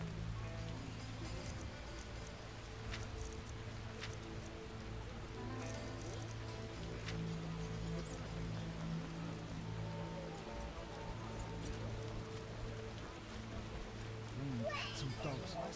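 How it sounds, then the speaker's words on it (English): Steady rainfall in The Witcher video game, a continuous patter of drops on surfaces with low ambient game hum beneath, fairly faint and even throughout, with a brief brighter rustle near the end. "Oh, when will this rain stop?"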